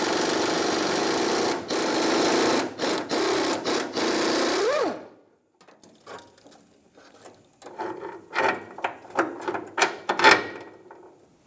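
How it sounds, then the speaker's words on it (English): On a 1992-1996 Ford F-150, a ratchet socket works the gas tank strap nut, a steady buzzing whir of the ratchet giving way after a pause to a string of louder, uneven clicks, close by. "13mm wrench for the top, hold that bolt, and a 15mm socket for the nut."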